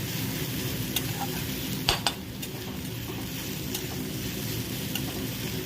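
Crushed green chili and garlic fry in a pan while being stirred, giving a constant sizzle with occasional scrapes and clinks of the spoon against the pan, close and without talk.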